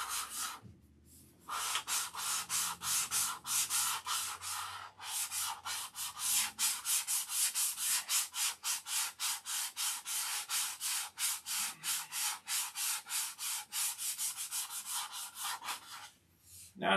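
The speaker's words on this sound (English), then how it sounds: "sanding this thing before it gets another coat of dope" Steady rhythmic sanding of dope-coated silkspan covering, a dry scratchy rubbing repeated in quick strokes close by, with a short pause near the start and a brief break near the end.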